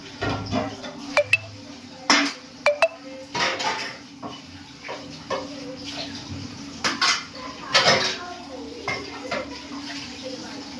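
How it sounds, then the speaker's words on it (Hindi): Dishes, pots and metal utensils being washed, with irregular clinks and clatters of cutlery and cookware against each other, close by and fairly loud, over a low steady background hum. "तू भी आगे बर्तन धो के देख बेटा"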